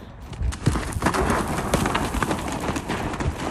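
Horse hooves clip-clopping in the video game Mafia: The Old Country, a quick, busy run of close hoof strikes over a rough ground texture, loud and continuous with a faint voice underneath.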